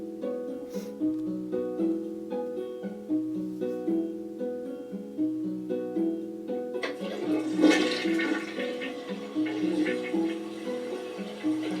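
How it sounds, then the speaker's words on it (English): A bathroom toilet gives a full flush: a sustained rushing, gurgling swirl of water that swells louder midway and keeps draining steadily, heard close and without talk. "Full flush and everything."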